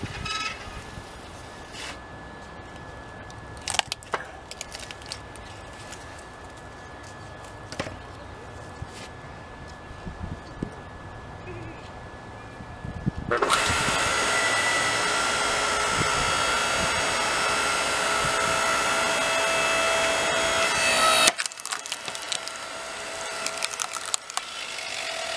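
Log splitter working on a tough log: scattered creaks and cracks of wood, then a loud hydraulic engine-like whine and hiss that runs for several seconds before cutting off abruptly, leaving quieter knocks.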